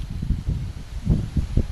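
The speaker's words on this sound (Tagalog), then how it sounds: "mahangin po dito." Gusty wind on a mountainside buffets the microphone in low, uneven rumbling surges that swell and fade over a couple of seconds, with no voices.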